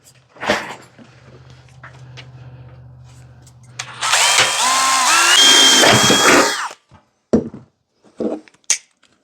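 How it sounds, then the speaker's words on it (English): HVAC sheet-metal ductwork being riveted together, a loud power-drill whine rising in pitch for a few seconds, then sharp metallic snaps and clanks of the riveter close by. "I'm gonna put my rivet up here"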